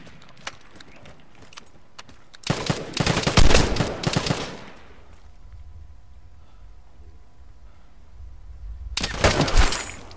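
Gunfire in the video game Vigor comes in a dense burst of loud shots for a couple of seconds, then a quieter stretch, then another loud burst near the end.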